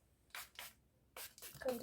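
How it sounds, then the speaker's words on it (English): Oil moisturizing hair spray sprayed onto hair, four short hissing bursts from a pump bottle, close and fairly quiet with pauses between them. "It's called oil moisturizing spray."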